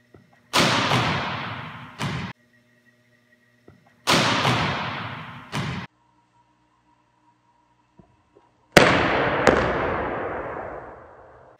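A volleyball is struck hard in a practice drill, giving sharp smacks followed by quick bounce thuds and short reverberant tails, in three spaced hit-and-bounce pairs echoing in an indoor gym.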